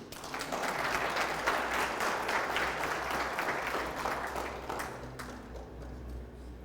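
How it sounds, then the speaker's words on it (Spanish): Sustained congregation applause during a church sermon, many hands clapping in a dense, even roar that eases slightly toward the end. "denle un aplauso a Cristo"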